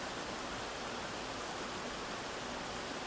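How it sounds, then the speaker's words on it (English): A river flowing through a forest on a hiking trail, heard as a steady, soft broadband rush of moving water with no voices, continuous and fairly faint throughout. "I love listening to the sounds of the river."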